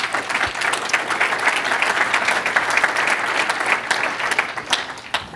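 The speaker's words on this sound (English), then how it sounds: "So let's give a round of applause to our sponsors." A keynote audience applauds the sponsors, a dense, sustained round of many hands clapping that stays loud throughout and tapers slightly near the end.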